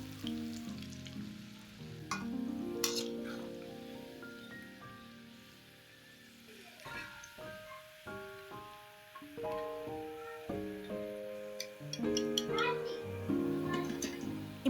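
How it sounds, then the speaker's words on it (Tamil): Batter-coated cauliflower pakoda fries in hot oil, a steady crackling sizzle under background music throughout, rising and thinning as the pieces cook. "நான் இப்போ பேலன்ஸ் இருக்கிற காலிஃப்ளவரையும் போட்டு பொரிச்சு எடுத்துக்கிறேன்"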